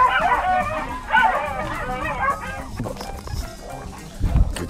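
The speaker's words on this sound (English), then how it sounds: "Trying to walk nearly 50 dogs at this time of the morning." Rescue dogs on an early morning walk give a couple of close, loud barks, then quieter whimpers and yips, with scuffling and thumps near the end.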